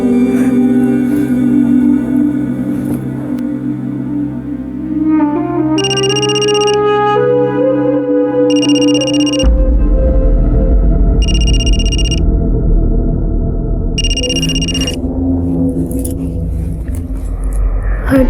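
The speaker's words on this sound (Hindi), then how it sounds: "फोन उठाओ" A telephone rings in repeated bursts of four electronic trills, loud and close, over a swelling musical background.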